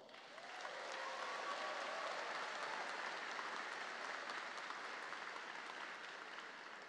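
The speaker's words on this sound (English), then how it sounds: "Let's give your loved ones a round of applause." Audience at a college of medicine commencement ceremony claps in a sustained round of applause, swelling in at the start and holding steady, heard from a distance in a large hall.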